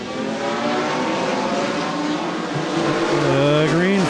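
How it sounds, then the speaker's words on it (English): ARCA race trucks accelerate at the green flag on the Winchester Speedway oval, a steady roar of engines with rising pitch sweeps near the end as trucks pass close by. "And Jackson with a good acceleration that time, coming down the front stretch."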